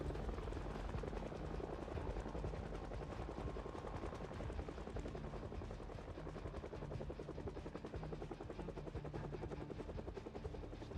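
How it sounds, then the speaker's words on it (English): A helicopter in Project Zomboid thuds steadily with rapid rotor chops, a constant dense drone that stays loud and even throughout with no talking. "the helicopter will make a lot of noise"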